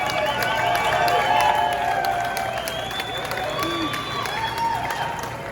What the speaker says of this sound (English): Let's give Andy a huge round of applause.